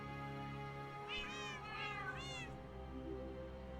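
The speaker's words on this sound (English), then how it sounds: "Bunch of kitty cats to greet me, I see." Several cats meowing in Minecraft, three short rising-and-falling mews in quick succession over a steady low background hum, fairly clear and close.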